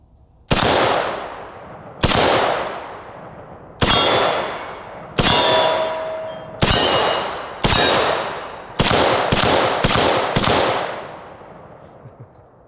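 Several single shots from an M1A rifle fired with iron sights, each followed by a bright metallic clang from a steel target; about ten loud, sharp reports with ringing decay, spaced irregularly and coming faster near the end.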